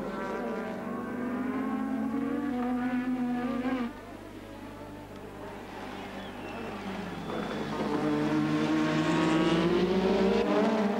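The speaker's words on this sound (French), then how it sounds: "Pour la forme, Nelson Piquet harcèle Senna dans la partie lente." Formula 1 cars race at the 1986 Hungarian Grand Prix in Budapest, with high engine whines rising and falling as they pass through the slow section, while a commentator talks over them.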